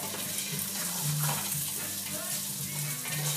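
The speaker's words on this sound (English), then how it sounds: "I'm going to take a wooden spoon, and you just kind of stir it" Food is stirred in hot oil with a wooden spoon while making a vegetarian jambalaya, giving a steady sizzle with soft scraping throughout and no talk.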